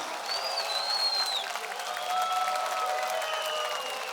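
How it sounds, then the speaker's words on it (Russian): A concert audience claps in a dense, continuous wash of applause, with whistles and faint cheers riding over it, heard from within the crowd. "Ваши аплодисменты"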